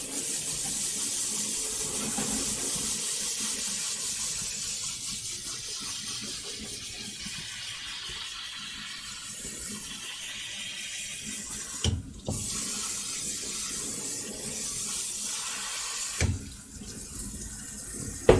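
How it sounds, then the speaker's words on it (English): Tap water runs steadily into a sink to rinse rice, a continuous close splashing stream that carries on alone for the whole stretch, with a couple of brief clunks near the end. "I'm going to have the quick rice rinse with water"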